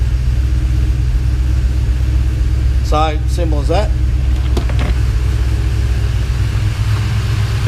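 A Ford Fairmont XC engine idles as it warms up, a steady low droning rumble running throughout while someone talks briefly partway through.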